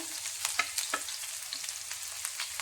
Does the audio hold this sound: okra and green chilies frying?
yes